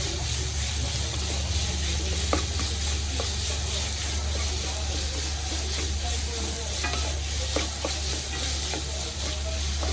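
Beetroot sizzles and fries steadily in a pan for a pickle, with scattered stirring clatters and scrapes over the continuous hiss.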